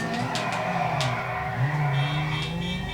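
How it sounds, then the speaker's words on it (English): A car drifts around a corner in GTA V on Xbox One, tires squealing in long skidding tones over a steady engine drone, with a few brief sharp bursts near the start and middle; no talking. "I like to drift to this corner."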